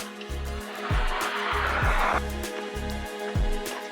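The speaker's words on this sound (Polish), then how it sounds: "Auta jeżdżą, ale to nic." Cars driving past on a road, heard as a steady roadside whoosh of traffic with a broad swell from a passing vehicle in the middle, plus some low rhythmic thumping throughout.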